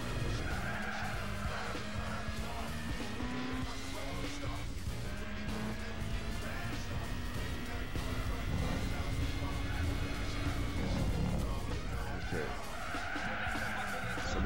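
Racing car engine drones continuously with long tire skids and squeals in Gran Turismo 4, loud and steady throughout, with someone talking over it.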